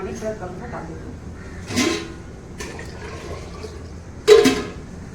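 Water is poured into a cooking pot in a home kitchen in two short splashing bursts, the second louder and nearer. A voice murmurs faintly in between.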